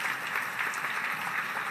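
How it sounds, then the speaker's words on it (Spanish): Audience applause greets a guest speaker at a marketing talk, a steady mid-sized wash of hand claps, fairly near and even throughout, with no voices over it. "Lo recibimos y con un aplauso."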